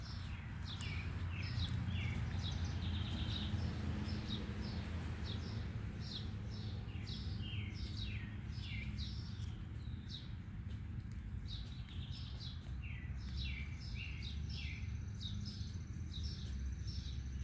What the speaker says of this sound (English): The birds are going crazy again. I don't know if you can hear all the songs and the chirping.